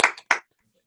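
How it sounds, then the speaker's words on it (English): A short burst of hand clapping, fading quickly, followed by near silence. "let's give Dr. Edwards a big round of applause for his awesome presentation today"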